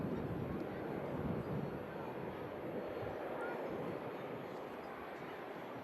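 An airliner lands at Manchester Airport, its engine roar steady and broad, slowly easing as the aircraft slows, with no break in the loud, continuous rumble and no voices.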